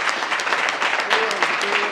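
Audience applause at a graduation ceremony, a brisk patter of many hands clapping at moderate distance, with a few voices calling out over it.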